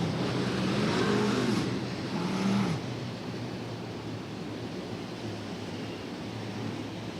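Dirt Car UMP Modified race cars circle a dirt raceway, their engines a steady broad roar with a louder passing surge early on before easing back to a constant rumble.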